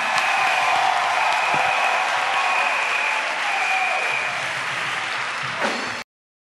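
A church congregation breaks into loud, sustained applause at a worship service, dense clapping holding steady for about six seconds before cutting off abruptly.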